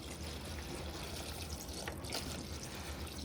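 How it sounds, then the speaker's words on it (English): White distilled vinegar pours steadily into a container, a soft continuous liquid rush and trickle, close but fairly quiet, with no voices. "pouring the white distilled vinegar in."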